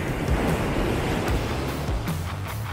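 Surf breaking on an ocean shore, a steady loud wash of churning water with low rumbling swells rolling in continuously, some wind buffeting the microphone, no talking.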